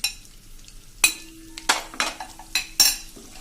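A spoon stirs and scrapes a pan in a few distinct strokes while ginger-garlic paste sautés in oil with a light sizzle underneath.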